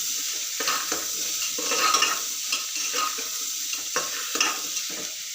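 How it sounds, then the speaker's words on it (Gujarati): Spiced khichdi with peas and potatoes being stirred in a pot, a steady scraping and mixing over a soft sizzle, with repeated strokes close up and no talking. "હવે મિક્સ કરીશું."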